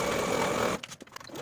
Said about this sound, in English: we're going to sew this seam as pinned from the top to the slit marking